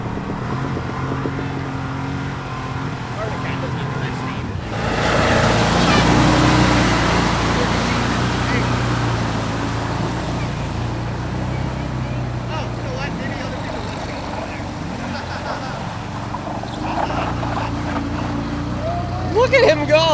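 A 49-horsepower off-road side-by-side UTV runs on a mud trail at a charity ride, its engine droning steadily and swelling louder for a stretch, with people talking over it throughout.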